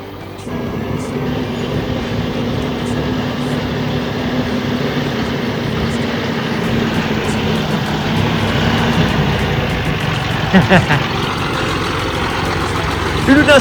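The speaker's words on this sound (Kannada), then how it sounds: "ಒಂದು ಟ್ರ್ಯಾಕ್ಟ್ರು ಬರ್ತಾ ಇದೆ" A heavy tractor engine rumbles steadily nearby with a low droning hum as it passes, some faint clatter toward the end.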